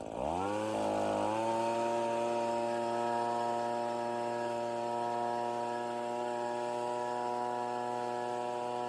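An Echo PB-2520 gas leaf blower starts up, its two-stroke engine climbing quickly to a steady, loud high-revving drone that holds without a break, close by and alone.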